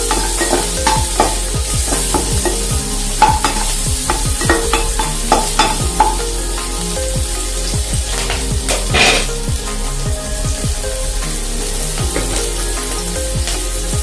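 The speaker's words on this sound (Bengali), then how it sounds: "বিনসগুলো একটু ভেজে নেবো, সামান্য একটু।" Beans frying in oil for navratan pulao, a continuous close sizzle broken by frequent quick scraping and clattering strokes of a spatula stirring against the pan, with no voices.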